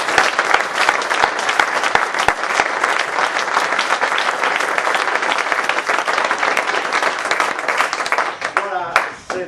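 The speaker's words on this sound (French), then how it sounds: "vous pouvez les applaudir" Audience applause fills an evening event hall, dense and steady clapping from a sizable crowd held at even loudness, then thinning out near the end.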